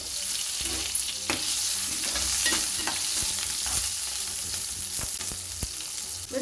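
Green chilies, cumin and garlic frying in hot oil in a pan give a steady, close sizzle throughout, broken by the scrape of stirring and the sharp pops of spices hitting the fat.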